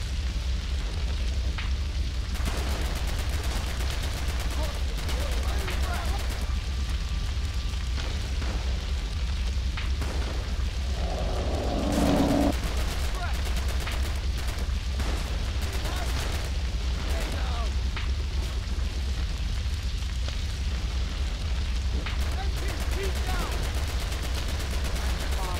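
Rapid gunfire and booming shots from a Western-themed shooter video game, Heroes of the West, fill the stretch as a dense, continuous barrage under a constant layer of game noise, with voices speaking over it.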